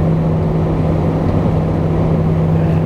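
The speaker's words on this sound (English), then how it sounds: "Engine slowing down a little bit, it sounds like." Jet engines of a Lufthansa Airbus A320 in flight, heard from the cabin as a loud, constant low roar with a steady tonal hum, without any change in level and no talk.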